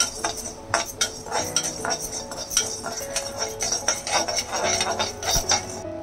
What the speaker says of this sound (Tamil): தேவையான அளவு நம்ம உப்பும் வறுத்துக்கலாம்